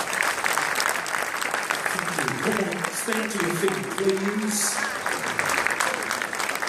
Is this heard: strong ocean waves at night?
no